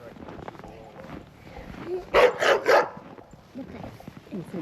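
A puppy barks and yips three times in quick succession at a remote off-grid Alaskan log cabin, close and fairly loud, while people talk around it.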